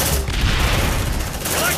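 A grenade blast mixed with heavy gunfire in the sci-fi game Aliens: Dark Descent, a loud, dense, continuous barrage of booms and shots close by, with voices faintly in the mix.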